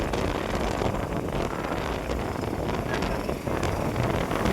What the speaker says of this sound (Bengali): দেখি এগুলো সব মাছের ট্রলার